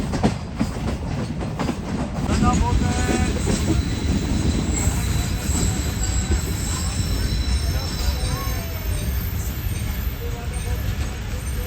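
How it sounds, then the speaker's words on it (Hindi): The Awam Express rolls into Shahjahanpur railway station with a loud, continuous rumble, rhythmic clatter of wheels over rail joints and occasional metallic squeals, heard from on board. "हमारी ट्रेन 2 घंटे लेट अप्रोच बना रही है शहनाजपुर रेलवे स्टेशन पर"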